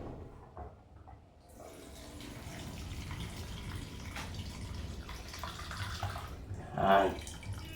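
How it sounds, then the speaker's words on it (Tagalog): Coconut milk being poured into a pot of paksiw, a steady liquid pouring and bubbling wash with a brief louder splash toward the end. "lagay na natin yung gata natin mga lods"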